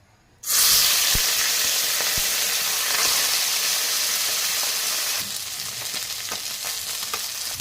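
Puti fish drop into hot mustard oil and burst into a loud, close sizzle that starts abruptly, crackles steadily with a few sharp pops, then eases slightly but keeps frying.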